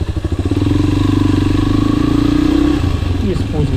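A Suzuki DR 250 enduro motorcycle engine drones steadily close by, then its pitch drops and falls away as the bike slows on engine braking in second gear.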